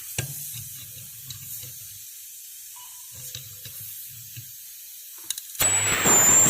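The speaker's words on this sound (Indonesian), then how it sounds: "Ya, freon kedengeran ya, freonnya keluar anginnya." Refrigerant gas rushes out of a refrigerator's opened seal as a sudden, loud, broad hiss that begins near the end, following near-silence broken by faint handling clicks and low murmurs.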